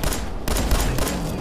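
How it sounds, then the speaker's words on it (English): Rapid pistol gunfire in Fallout 4, a dense burst of loud close shots with a brief gap, then continuing volleys. "I'm gonna kill you with my pistol."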